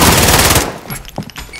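Sustained automatic gunfire in Call of Duty: Modern Warfare, a loud rapid burst that cuts off after about half a second, followed by a few scattered distant shots.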